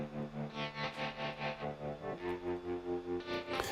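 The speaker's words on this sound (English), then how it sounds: "So here's the tremolo effect by itself" Distorted electric guitar notes through a Guitar Rig 2019 tremolo effect, pulsing with a quick, regular tremolo, the volume throbbing up and down about four times per second.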